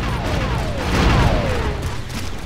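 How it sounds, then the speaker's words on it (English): Grenade blasts and gunfire in the Star Wars: Republic Commando game, a dense, sustained roar of explosions and shots with rumbling low booms, no speech over it. "Grenades! Take cover!"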